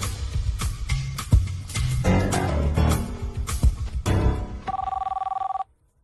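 A telephone rings for an incoming call from India, a repeated electronic trill that comes through busy background sounds and ends abruptly.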